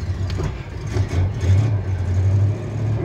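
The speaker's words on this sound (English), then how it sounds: "Yeah, turn the key. Hit the gas once or twice." A classic Studebaker Hawk's engine runs with a low, rumbling idle that swells in a couple of throttle blips, close and steady, with no talking over it.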